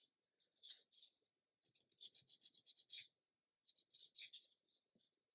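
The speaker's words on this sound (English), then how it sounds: "It's quite a heavy seam underneath there, so I'm using my abrasive rather than the edge of my knife." An abrasive sands a heavy seam on a 1/72 Airfix Boulton Paul Defiant Mk1 plastic model kit part, giving short, close, quiet rasping strokes in three bursts with brief pauses between them.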